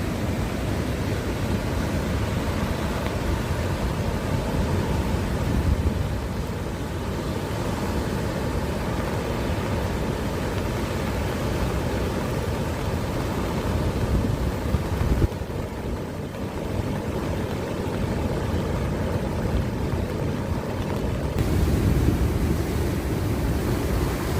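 Ocean surf rolls onto the shore in a continuous broadband wash, steady and moderately loud, with wind noise and gentle swells rising and fading over time.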